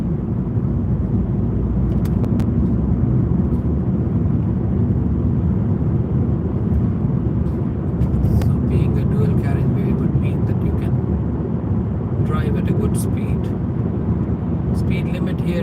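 A car cruises along the M329 dual carriageway in the UK on a warm evening, its steady, loud road roar and engine rumble running continuously throughout.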